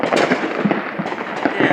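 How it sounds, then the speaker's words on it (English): Dense crackling fireworks bursting continuously at a Fourth of July celebration in Washington State near the Oregon border, loud and close, with rapid overlapping pops. "There's a lot of fireworks going off."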